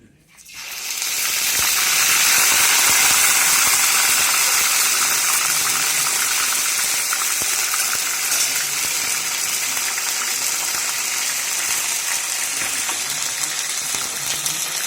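Ginger garlic paste hitting hot oil in a kadai, bursting into a loud, bright, hissing sizzle that holds steady and sustained for several seconds.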